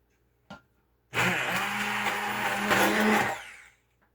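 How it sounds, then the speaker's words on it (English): A small tap, then a handheld immersion blender whirs loudly and steadily for about two and a half seconds, smoothing applesauce, before winding down. "I'm going to take the immersion blender after this, get it all smoothed out."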